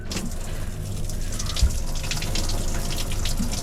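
Shower water runs steadily in a small train bathroom on the Great Southern rail journey, a continuous close hiss and splash of spray with a low rumbling undertone throughout.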